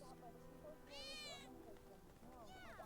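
A cat meows twice in Final Fantasy VII Remake: a bright, rising call, then a shorter wavering one, both over steady game background sound with some talk underneath.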